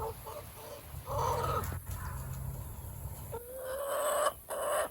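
Several chickens cluck and murmur close by inside an Omlet Eglu chicken coop, with a few longer drawn-out calls rising over the steady low chatter.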